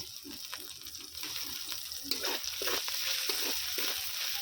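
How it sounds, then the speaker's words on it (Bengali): Chopped green chillies are stirred into well-fried spices in a hot pan for a veg momo filling, with rhythmic spatula scrapes over a steady sizzle and no talking. "এর মধ্যে দিয়ে দিচ্ছি কেটে রাখা কাঁচা লঙ্কা"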